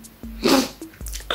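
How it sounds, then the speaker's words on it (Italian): A person sneezes once, a loud close burst after a short gasping intake, followed by brief breathy vocal sounds. "trattenendo uno starnuto"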